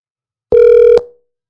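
A phone call to an AI voice agent for a support desk begins with a single steady ring or dial tone of about half a second, loud and close, ending abruptly with a brief fading tail and no talking.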